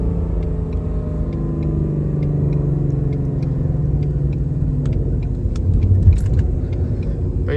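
A Ford Mustang GT engine downshifting, heard as a steady low rumbling drone with harmonic engine tones that shift in pitch, continuous throughout with a slight swell near the end.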